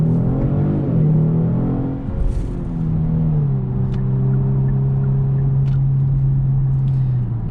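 The 3.3T engine of a 2021 Genesis G70 drones steadily from inside the cabin while driving in first gear, its pitch dipping and rising before settling into a sustained, even hum.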